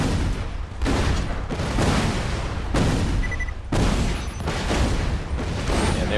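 Rocket launcher in a video game firing round after round, each launch a loud booming blast with a rumbling tail, about six in steady succession filling the whole stretch.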